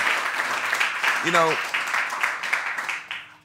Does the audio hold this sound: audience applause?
yes